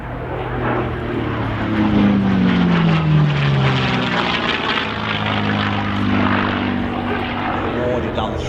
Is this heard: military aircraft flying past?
yes